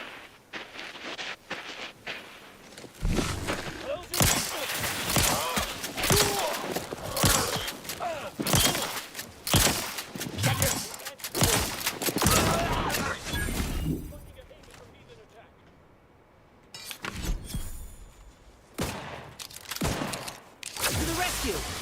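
Bursts of gunfire in the video game The Outer Worlds 2 crack out repeatedly in loud, irregular volleys with short pauses between them, mixed with game voices and a quieter stretch in the middle.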